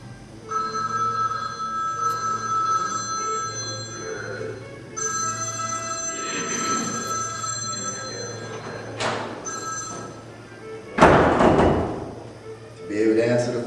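A telephone rings with repeated electronic trills during an exercise class, while people keep talking over it and clatter sounds in the room.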